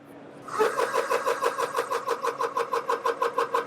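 An Umarex Ready Air portable air compressor starts after a brief quiet moment and runs with a steady, fast, rhythmic chugging pulse, close and fairly loud, with no speech over it.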